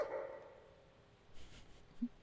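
A companion dog in the modded game Fallout 4 gives a faint whimpering bark, with a low, quiet yip near the end over a hushed background.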